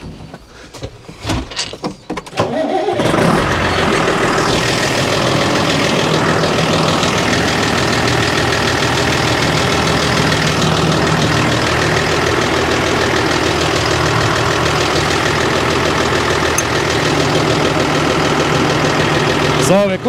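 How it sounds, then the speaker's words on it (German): A tractor engine, Fendt or John Deere, cranks with a few sputters, then catches and settles into a loud, steady, rumbling idle that runs on alone. "Ich mache mal einmal den Trecker an."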